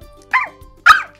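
Child imitating a dog barking, two short sharp yapping woofs about half a second apart, loud and close with no other sound.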